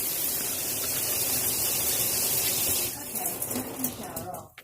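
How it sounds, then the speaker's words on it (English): Shower running in a camper, a steady broadband hiss of spraying water that holds for several seconds then breaks up into uneven splashes and cuts off near the end. "See, shower's on, it's running."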